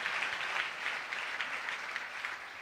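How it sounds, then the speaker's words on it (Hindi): A congregation claps steadily during a church sermon. The applause is dense and even, fairly faint, and continues for the whole clip. "जोरदार तालियां बजाएं उस शख्स के लिए।"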